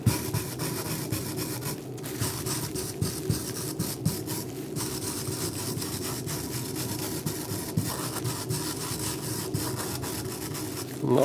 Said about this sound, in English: wire brush, and that just takes that smooth kind of look off it and gives it a more authentic